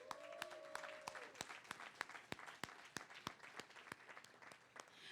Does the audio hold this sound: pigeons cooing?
no